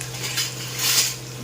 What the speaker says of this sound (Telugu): నూనె చూడండి ఎలా ఎగురుతుందో, పట పట పట పట పట అంటుంది.